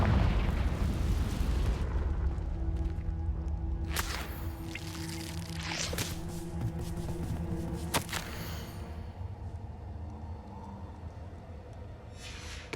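Confringo blasting spell in the Hogwarts Legacy video game, several sharp fiery bursts and cracks over a rumbling low roar with game ambience.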